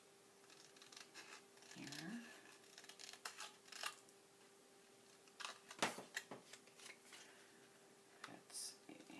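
Scissors trimming a small paper craft tag, with quiet sparse snips and paper rustles close by, a brief spoken word in between.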